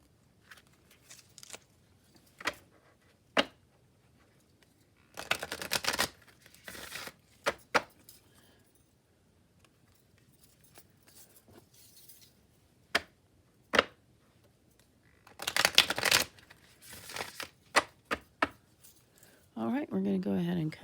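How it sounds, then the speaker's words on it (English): Tarot cards are hard shuffled on a table in bursts of sharp riffling and snapping, separated by quiet gaps and isolated taps, close and crisp. "I'm going to go ahead and do some hard shuffles on the table."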